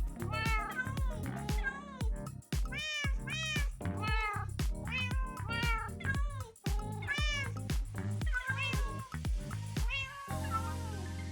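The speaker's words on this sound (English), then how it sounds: "Please enjoy this montage of cat noises." A rapid series of close cat meows follows one after another, varied in pitch and length, some drawn out into yowls, ending with a brief burst of other noise.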